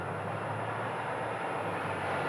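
A China Airlines Airbus jet at Phoenix airport, runway 26, roars with a steady broadband engine rush and a thin high whine, sustained and fairly distant, with no voices.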